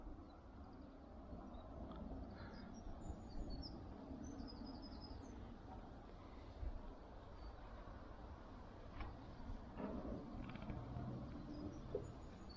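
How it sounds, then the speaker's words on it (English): Faint birdsong chirps drift in from a distance over a steady outdoor rumble, with occasional soft calls scattered across a calm background. "You can just hear the birds."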